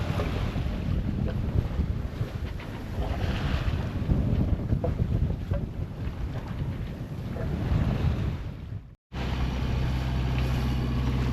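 Wind rushes and gusts over the microphone aboard a sailboat under sail, with steady water wash along the hull, loud and continuous until a brief cut.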